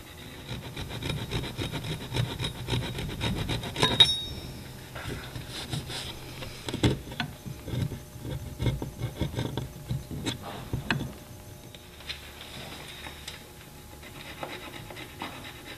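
Short-stroke hand sawing of wood during futon cabinet assembly, with quick, irregular rasping strokes close by that come in bursts with brief pauses and no talking.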